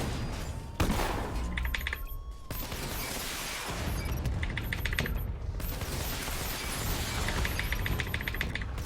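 The Batmobile's missile barrage fires in Arkham Knight, a rapid volley of launches and blasts with crackling bursts repeating over several seconds, loud and dense over a background roar.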